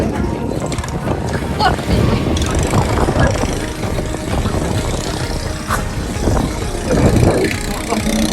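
Strong wind buffets the microphone during a bamboo raft trip on a river at Ban Tha Wat, Sakon Nakhon, a steady loud rumbling gust with water and voices mixed underneath.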